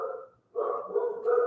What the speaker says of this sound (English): This girl here, you see she's still in the garage barking.